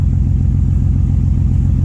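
Nissan R32 GT-R engine idling after a coil kit install, a loud close, steady low rumble with an even pulsing beat.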